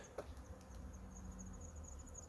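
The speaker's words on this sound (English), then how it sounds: "there's a lot of wasps flying around" Steady buzzing and droning of wasps flying around outdoors by an abandoned mansion, a faint continuous hum with scattered brief ticks, no voices.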